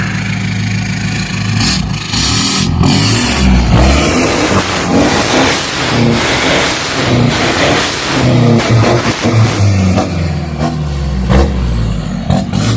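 Mazda BT-50 pickup fitted with an aftermarket performance exhaust, loud and close, its engine revving hard in repeated bursts that rise and fall over a deep rumbling idle, with no talking.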